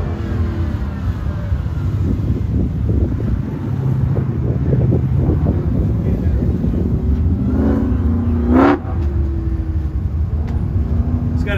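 A supercharged Hellcat V8 with a Tremec TR6060 manual gearbox revs at an autocross, a loud, steady engine roar with a sharp rising whine near the end, mixed with wind buffeting on the microphone.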